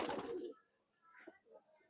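A Khulna Chot Madi pigeon gives a short, soft coo after a brief loud burst of noise at the start. The call is faint and close by.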